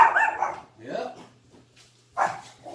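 Small puppies barking and yipping indoors in a workshop during a resin table project, a few short bursts near the start and again near the end, with a voice speaking around them.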